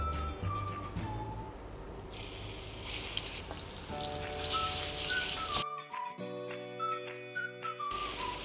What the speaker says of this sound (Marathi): आता आपलं तेल चांगलं गरम झालेलं आहे, ह्याच्यामध्ये आपल्याला प्रथम आलं लसूणची पेस्ट टाकायची आहे